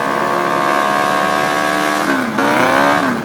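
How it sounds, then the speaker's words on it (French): Motorcycle engine sound effect in a stage play, a steady loud droning motor that dips and revs up near the end, with no talking. "une deuxième moto qui entre dans la danse"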